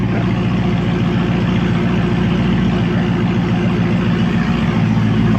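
A widebody Dodge Hellcat with a loud exhaust upgrade runs close by, a steady deep rumbling drone throughout, with no distinct rev peaks.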